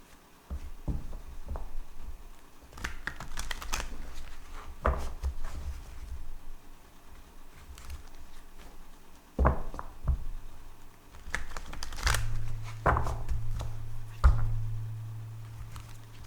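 Druid Craft Tarot cards are shuffled by hand at close range, giving soft, uneven riffles and taps with quiet pauses between them.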